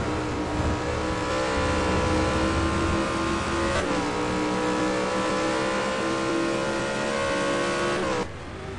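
Touring race cars at full throttle on the Hockenheim circuit, a loud continuous engine roar with shifting pitch as they pass and rev, cutting off abruptly near the end.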